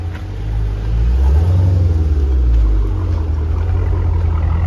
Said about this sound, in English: we got that Challenger running. I mean, the Charger.